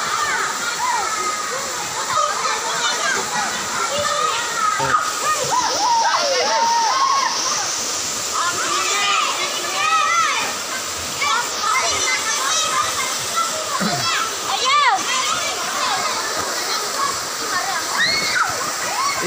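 Steady roar of the Salulliang waterfall, close and continuous, with children's voices and chatter mixed throughout.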